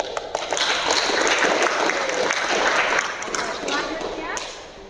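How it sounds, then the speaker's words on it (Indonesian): Classroom applause from students at a vocational maritime school, a dense patter of clapping filling the room with some voices mixed in, steady then easing slightly toward the end. "Saya apresiasi, tepuk tangan dulu."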